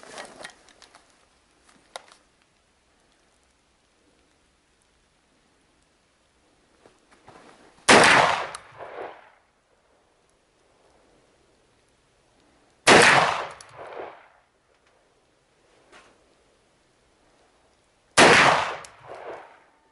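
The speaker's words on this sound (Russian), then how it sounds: "мы посмотрим по первым двум выстрелам, как они прилетели" An MP-156 shotgun with a 625 mm barrel fires slugs at a 30-metre target: three loud, sharp blasts spaced about five seconds apart, each followed by a short echoing tail, with quiet between shots.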